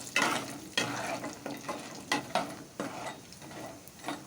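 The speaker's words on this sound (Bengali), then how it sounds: "তেল গরম হয়ে গেছে। 1 চামচ নুন দিয়ে দিলাম ডালের বড়িটি ভাজার সময়।" Lentil dumplings (dal bori) frying in hot oil in a kadai with a spoon of salt added, a continuous sizzle broken by rhythmic scraping stirs about every half second, close and moderately loud.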